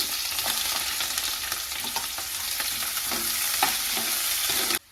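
Chopped onions frying in hot oil with cumin seeds for palak rice, a close, steady crackling sizzle with faint scraping of a spoon, stopping abruptly at the end.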